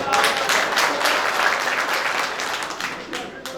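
A crowd claps loudly at an evening Urdu shayari gathering in Bhiwandi, a thick, sustained roar of many hands that stays strong before easing slightly near the end.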